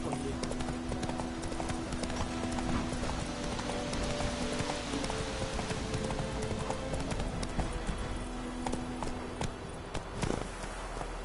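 Steady, rapid hoofbeats from the horse Roach galloping in The Witcher 3 video game, a dense rhythmic clip-clop that continues throughout over a busy, full game soundscape.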